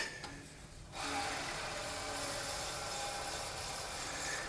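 Light hand sanding of a cyanoacrylate (CA) finish with a 600 grit Abralon pad on wood, a steady soft rubbing hiss that starts after a brief quiet moment and continues evenly at close range, with no talking.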